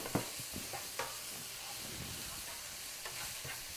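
Onions and green peppers frying in a pan, a steady close sizzle with occasional scraping stirs and small pops, no talking.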